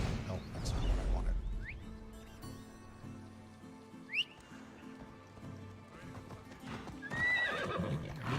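Horse hooves clip-clopping in the Greek open world of Assassin's Creed Odyssey, a steady galloping rhythm with neighs and whinnies, set amid game music and ambient effects.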